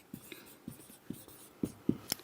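An example is written out on a board: a short series of separate, tapping strokes with small pauses between them, close and fairly clear over a quiet room.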